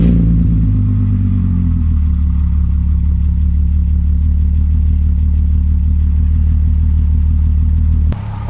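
A VR6 wagon's engine idles steadily nearby while warming up after a Liqui Moly engine flush and fresh oil with Molygen MoS2 treatment. The low, even hum drops slightly early on and ends with a sharp click.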